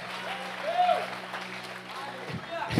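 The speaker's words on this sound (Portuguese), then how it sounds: "Aplauda Jesus." Church congregation applauding during a sermon at Aviva Brasil Church, a steady roomful of clapping with faint voices and a brief call rising over it.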